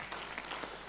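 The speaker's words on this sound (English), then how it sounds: "I think our panelists deserve a round of applause" Faint, brief applause from an audience at a colloquium on housing bills greets the panelists, a soft wash of clapping lasting about a second.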